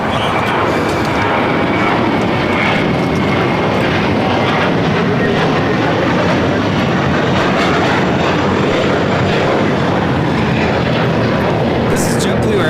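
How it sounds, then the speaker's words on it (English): A JetBlue Airbus A321 airliner takes off at LAX bound for Fort Lauderdale, a loud, steady broadband engine roar holding for the whole stretch with voices talking over it. "This is JetBlue Airways 1700 taking off to Fort Lauderdale on the A321"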